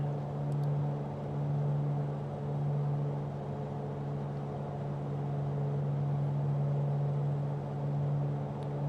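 Light aircraft engine droning steadily in flight over Galway Bay, a constant low hum with a strong tonal buzz and slight rhythmic swells, heard from inside the cabin.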